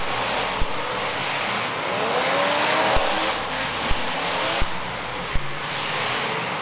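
Demolition derby cars rev and grind around the arena, some running on bare rims, with a continuous engine roar, scraping noise and several sharp metallic thuds at irregular intervals.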